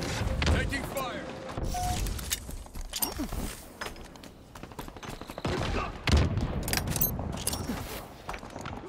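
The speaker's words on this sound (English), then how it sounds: "Taking fire." Gunfire in the video game Halo Infinite, a busy mix of rapid bursts and scattered shots with occasional thuds, fairly close and continuous, with radio-style game voices over it.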